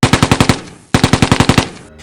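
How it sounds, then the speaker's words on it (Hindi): Gunfire sound effect: two rapid volleys of loud, close shots, about six or seven evenly spaced bangs each, separated by a brief pause, with no voices. "हम दोनों ने उस जीव या उस दानव के ऊपर बहुत सारी गोलियां चला दी।"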